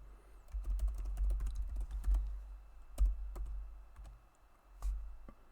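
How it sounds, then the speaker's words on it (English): Keys clack on a computer keyboard close by, in irregular clusters of soft taps with a few sharper strokes, over a low background hum and with no one talking. "What we do, we type out the variable name"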